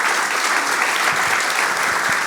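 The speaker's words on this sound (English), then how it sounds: "Another round of applause for Takada-san and Ikeura-san." An evening audience at a Hokkaido food and culture event claps in dense, even applause, loud and sustained for a couple of seconds.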